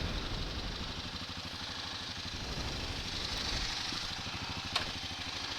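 A Kawasaki KLR650 motorcycle engine idles in neutral, a steady close-up mechanical chug with an even rhythmic pulse throughout and one brief click near the end.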